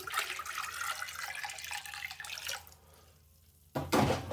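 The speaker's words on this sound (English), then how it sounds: "So I'm going to add cold water to it now." Cold water poured into an apple brandy mash: a close, splashing, trickling pour for about two and a half seconds fading to quiet, then a sudden louder splash near the end.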